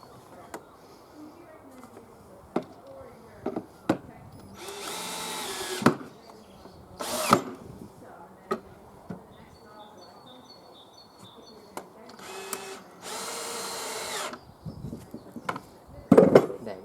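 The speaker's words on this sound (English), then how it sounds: "when you start screwing that screw into the wood" A power drill drives screws into the wooden top piece of a flower box in several short whirring bursts, separated by quiet pauses filled with clicks and handling knocks.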